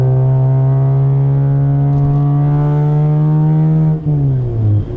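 A Mazda RX-8 rotary with a straight-pipe track-day exhaust and its resonator removed revs steadily with a loud, droning note, then drops in pitch as the revs fall near the end. No one speaks.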